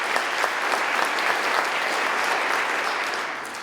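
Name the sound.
audience applauding the musicians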